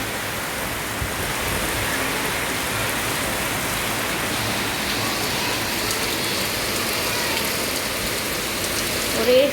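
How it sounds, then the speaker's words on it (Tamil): Heavy rain pours down steadily and loudly outdoors, a dense, unbroken hiss of falling water that stays constant throughout with no voices. "செம்ம மழை"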